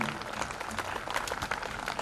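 Audience at a workers' union conference applauding, a faint, continuous patter of many hands clapping, slightly distant, with some crowd murmur underneath.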